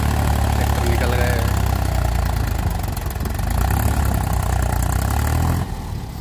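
A Farmtrac or Mahindra farm tractor engine runs steadily in low gear, a loud, continuous diesel rumble close by that barely changes throughout.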